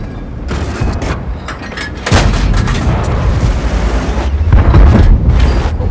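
Heavy booming shots from a tank gun in World of Tanks, fired from a T14 premium heavy tank with a short-barrelled 75 mm gun, two loud blasts a few seconds apart with rumbling tails, no talk.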